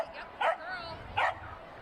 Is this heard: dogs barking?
yes